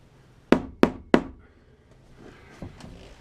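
Three sharp, loud hammer blows in quick succession drive a spiked T-nut into wood aboard a sailboat, followed by quieter rustling and a couple of faint knocks.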